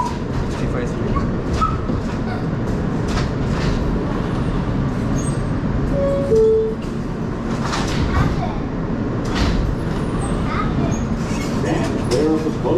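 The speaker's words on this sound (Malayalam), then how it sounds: "നമ്മളിപ്പോൾ ക്യൂൻസ് പ്ലാസ എന്ന് പറയുന്ന സ്റ്റേഷനിലെത്തിയാണ്." Subway train at Queens Plaza station, a steady loud rumble and rattle of the moving train filling the whole stretch, with clacks and faint voices in the background.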